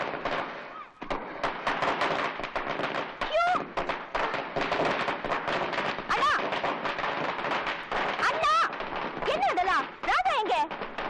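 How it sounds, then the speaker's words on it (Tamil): Rapid bursts of firecrackers crackle and pop in dense, irregular volleys, with excited voices shouting amid the bangs. "ஒரு பக்கம் பட்டாசு கொளுத்துறா"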